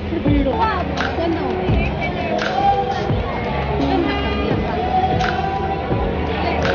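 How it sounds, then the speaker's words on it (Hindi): A busy Sunday crowd fills an ISKCON temple, a steady hubbub of many voices with shouts, children's cries and bursts of louder chatter close by, while a nearby voice talks over the din. "और काफ़ी भीड़ है आज संडे का दिन है"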